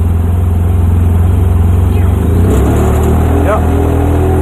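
A car engine running steadily while driving slowly in two-wheel drive, a continuous low hum and rumble close by with a slight rise partway through, voices briefly audible over it.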